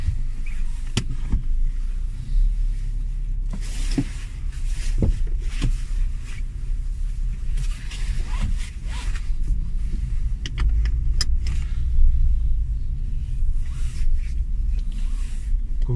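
A Fiat Tipo four-door saloon with a 1.4-litre, 95-horsepower petrol engine drives along, giving a steady low engine and road rumble inside the cabin with occasional small clicks and knocks.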